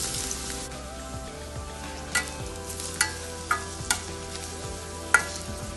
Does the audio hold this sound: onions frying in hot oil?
yes